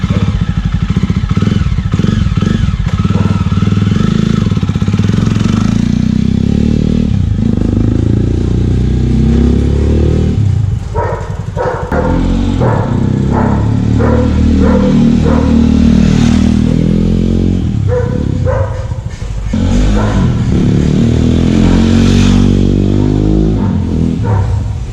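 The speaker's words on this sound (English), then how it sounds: "let's see the flyby note with the Jawa Classic installed with Moto Wings Performance exhaust" A Jawa Classic motorcycle fitted with a Moto Wings Performance exhaust runs loud and close, its deep burbling exhaust note rising and falling through repeated revs and throttle blips, with some mechanical clatter, for about twenty-five seconds.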